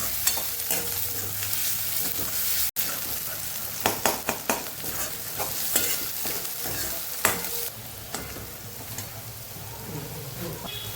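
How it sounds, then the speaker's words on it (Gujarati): Onion and green garlic sautéed in a pan for Kathiyawadi methi shaak, with a steady sizzle of frying and frequent sharp scraping and tapping of a spoon stirring against the pan, close and fairly loud. "ડુંગળીને લસણને મસ્ત એવું આપણે સાતળી લેવાનું છે।"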